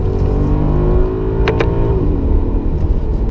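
A 2009 Maserati Quattroporte S with a 4.7 V8 accelerating on the road, a loud, close engine roar climbing in pitch, with a brief sharp whine midway before the revs settle.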